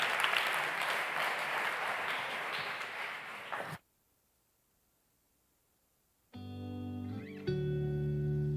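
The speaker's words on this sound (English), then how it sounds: "Round of applause, everybody." An audience at a European social economy awards gala applauds in a dense burst that cuts off abruptly, followed by a stretch of silence and then a music track starting up.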